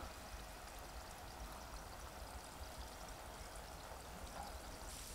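Badusha dough frying in oil on a low flame gives a steady, even sizzle with a soft bubbling hiss that holds at a constant level throughout, with no voices.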